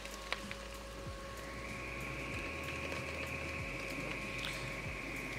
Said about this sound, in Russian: Жалюзи на наши заслоночки начали открываться.